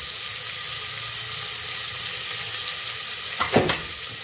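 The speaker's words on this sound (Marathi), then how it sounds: "आता याच्यामध्ये आपलं कांदा टाकून घेतलेला आहे, ते चांगला असा शिजून देते." Chopped onion frying in oil for pav bhaji, a steady soft sizzle running throughout, with a few brief clinks or stirring scrapes near the end.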